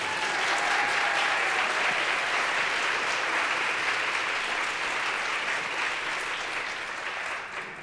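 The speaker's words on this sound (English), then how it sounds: "Yes, you can clap." A concert audience at a live Hanukkah concert in New York City breaks into loud, sustained applause that fills the room and then slowly fades.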